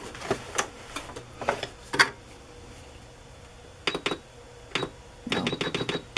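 A sewing machine stitches paper and fabric on a handmade circus journal in short bursts of quick mechanical clicking with pauses between runs, the last burst the longest.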